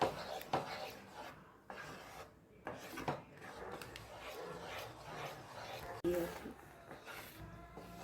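Thick wheat halwa stirred and scraped in a pan, giving close, rough rasping strokes that come and go irregularly as a voice talks over it.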